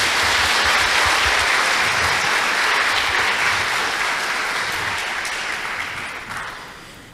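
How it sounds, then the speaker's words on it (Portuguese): Sustained applause from a large audience honouring a speaker's mother: a dense, loud, even roar of clapping that holds for several seconds before gradually tapering off. "Eu queria uma salva de palmas para minha mãe."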